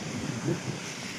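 A river waterfall in full flow, heard as a steady broadband rush of falling water mixed with wind buffeting, continuous and fairly loud throughout the brief moment.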